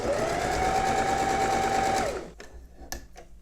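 A sewing machine stitches hook and eye tape onto fabric in a steady, loud run for about two seconds, then stops, leaving a few faint clicks and handling sounds.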